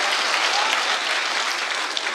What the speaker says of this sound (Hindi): आप लोग अगर तालियां बजा रहे हैं तो मिलके बजाते हैं एक बार अब्बास साहब के लिए